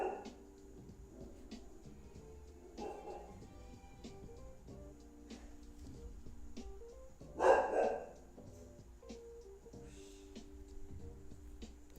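A pet dog barks in short, separate bursts, faint and some distance away, with one louder bark partway through over a quiet room hum.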